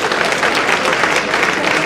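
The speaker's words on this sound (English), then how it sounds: "a round of applause for His Excellency" At an anniversary dinner dance, a crowd applauds with dense, steady clapping that stays loud throughout.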